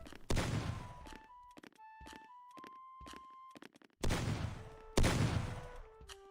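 Bursts of gunfire in a video game, several sharp loud volleys at the start and again near the end, with quieter tonal game sounds between them.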